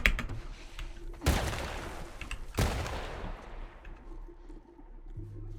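Two loud, sharp gunshots about a second apart in The Last of Us, each with a decaying tail, followed by quieter in-game ambience.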